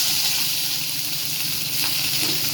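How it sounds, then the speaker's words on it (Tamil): Cumin seeds fry in hot oil in a pan for potato kuzhambu, making a loud, steady, close sizzle with a dense crackling hiss throughout. "இப்போ சீரகம் பொரியுது"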